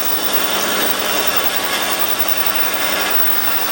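A dense, steady mechanical whir with a hissing grind, as a 9.9 mm drill on a Warco lathe bores through aluminium up close at about 700–900 RPM.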